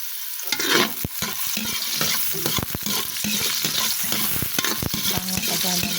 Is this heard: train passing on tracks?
no